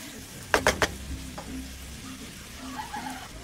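Carrots and potatoes are stirred into a frying chicken curry: three quick scraping clatters of a spoon in the pan near the start, one softer stroke after, then a low steady sizzle underneath.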